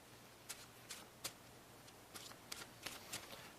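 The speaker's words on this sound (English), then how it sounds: "Now shuffle up." A deck of playing cards being shuffled during a card magic routine, a series of quick, crisp riffles and snaps, close and fairly quiet, with no talking.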